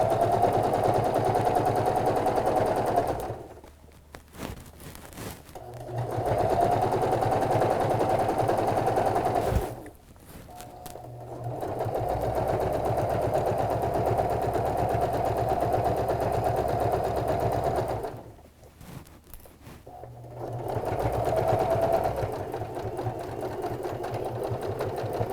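A sewing machine stitches a sleepover bag, finishing with a couple of back stitches. Three long, steady runs of close, even whirring are separated by short pauses.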